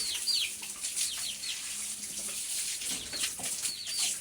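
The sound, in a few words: water poured while bathing pigs in pen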